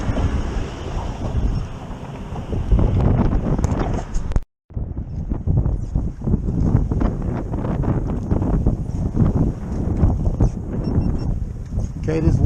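Strong, gusty wind over rough open water during cold-weather crappie fishing from a kayak, roaring as a constant loud rumble that buffets the microphone throughout.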